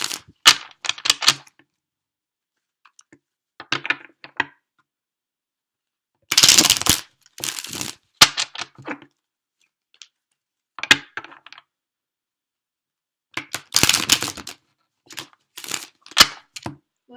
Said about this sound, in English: I'm going to pull some clarifying cards